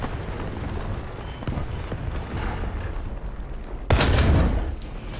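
Heavy gun blast from a German WW2 super heavy tank destroyer in a video game, a single sharp boom that rises out of a steady rumble of battle noise and rings on for a moment.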